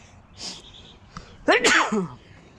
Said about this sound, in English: Gotta sneeze as soon as I hit the button.